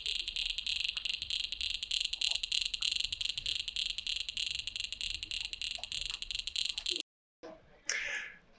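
A clear drone launched very high spins fast, producing a loud, continuous high-pitched whine with dense rapid ticking that runs steadily for about seven seconds, then stops abruptly, leaving a short faint rustle.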